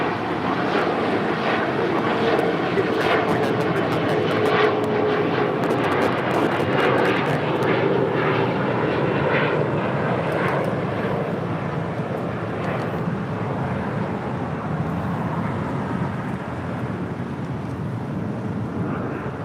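Airliner jet engines at LAX during taxi and takeoff, a loud, sustained roar that swells and stays heavy throughout, with wind buffeting the microphone.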